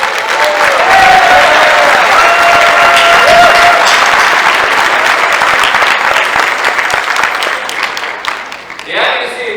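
An audience in a conference hall applauds its advocacy and policy leadership team, a dense, sustained roar of clapping that fades toward the end.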